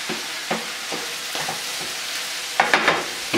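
Tomatoes and sauce cook down in a big pan with a soft, steady sizzle, broken by occasional scrapes and clinks of stirring that cluster near the end, close and moderate in level.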